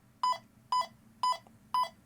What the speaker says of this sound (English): if you want to go back, it's 4 beeps on your menu